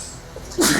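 A single short, sharp sneeze bursts out near the end after a quiet moment.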